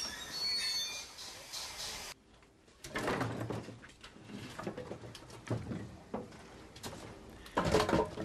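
A steam locomotive being shunted onto a siding gives off screeching wheels, clanks and rumbling rail noise in uneven bursts, with a loud hiss at the start and squeals rising near the end.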